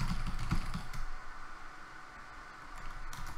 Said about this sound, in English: So now if I were to type here,